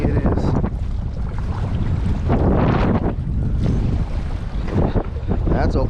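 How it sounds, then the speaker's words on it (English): Strong wind buffeting the microphone at a fishing dock by a small water cut, loud continuous gusty rumble with surging peaks and faint water noise beneath. "Look how windy it is here."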